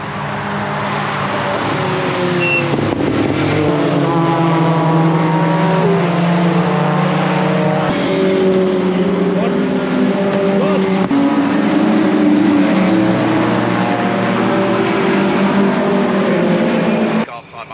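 Race cars roar round the Brands Hatch Indy circuit during an MSV end-of-season race, engines droning loud and continuous with shifting pitch as cars close up, while a commentator talks over the top throughout.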